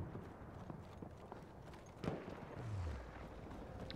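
Horse hooves clip-clop in the video game Battlefield 1, a faint, quick run of hoofbeats beneath low game background noise, with a sharper thud partway through.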